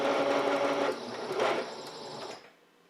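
A sewing machine stitches the sides of a makeup brush roll in one steady, close whirring run that stops abruptly near the end, leaving quiet room tone.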